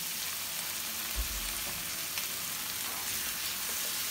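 Chicken fajita filling sautés in a hot pan, a steady close sizzle and crackle with a brief low stir thump early on, no voices.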